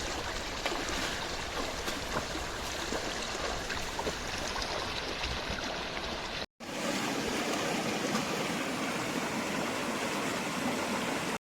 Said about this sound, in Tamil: பாருங்க, தண்ணி ரொம்ப வேகமாக வர தொடங்குது.